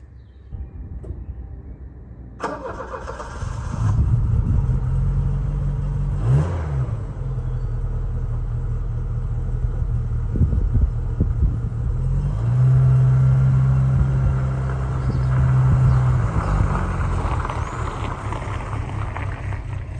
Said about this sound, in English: let's get the Cavalier moved out so I can get a bit of better access to it.